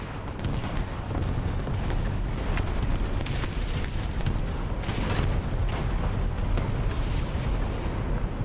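Tank gunfire in War Thunder, a barrage of repeated booming shots and sharp cracks over a constant roaring, wind-like rumble, loud and continuous throughout.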